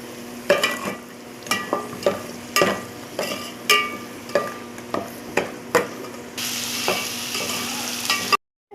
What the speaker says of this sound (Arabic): هسه حدير البصل.